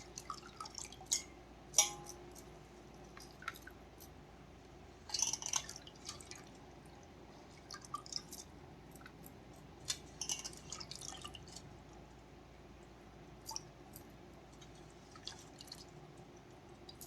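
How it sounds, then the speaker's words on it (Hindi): Water drips and trickles from grated potatoes squeezed by hand over a bowl, a faint, irregular patter of small drops and splashes against a soft background hiss. "आलू से अच्छे से पानी निचोड़ लेना है"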